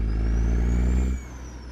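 Kenworth W900 truck engine in American Truck Simulator, a loud, steady low engine drone with a thin high turbo whine riding above it, dropping off abruptly partway through.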